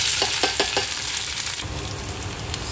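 A dal-fry tempering of urad dal, mustard seeds, cumin, chopped green chillies and onions sizzling in hot oil: a few sharp rhythmic stirring clacks, then a loud, dense hiss close by.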